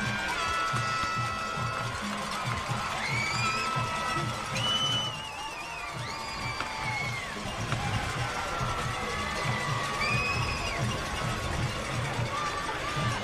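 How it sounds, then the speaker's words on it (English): A high school football crowd at Hereford hums with steady noise as the teams return to the field for the second half, with a commentator talking over it and scattered whistles and shouts. "And the crowd ready to welcome them back on the field"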